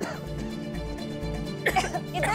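Coughing from smoke of a wood stove fire being lit indoors: a few harsh, close coughs in a short burst over a steady background hum, with voices talking around them.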